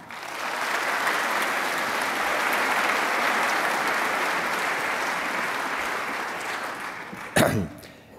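Audience applause at a conference colloquium rises quickly into a dense, even roar of many clapping hands, holds steady for several seconds, then fades, with a single cough or throat-clear near the end.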